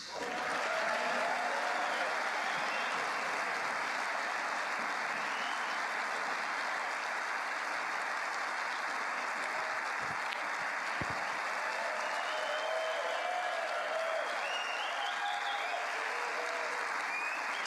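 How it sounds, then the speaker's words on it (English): Wild applause from the snooker crowd at the German Masters, a sustained, even roar of clapping lasting the whole stretch at moderate distance, with faint commentary voices drifting in underneath. "Wild applause for Alex Ursenbacher"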